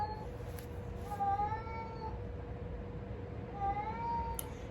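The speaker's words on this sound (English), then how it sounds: "Y'all hear my cat, Stormy?" Domestic cat meowing indoors, two drawn-out rising meows a few seconds apart, moderately close and alone over a steady low background hum.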